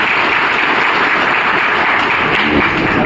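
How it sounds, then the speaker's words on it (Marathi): Dense, loud applause from a large crowd at a cooperative procession welcome event in Chikhli, Buldhana, a steady wash of clapping without pause. "तर त्याच्यासाठी एकदा टाळ्या झाल्या पाहिजे"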